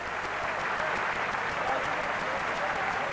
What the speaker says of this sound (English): And he leaves the field to sympathetic applause, also from Terry Mattison.